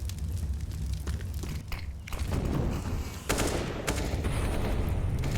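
Rapid bursts of automatic gunfire sprayed toward the Coffins spot on the Inferno map in a professional Counter-Strike match, dense overlapping shots with footsteps and short pauses, no voices.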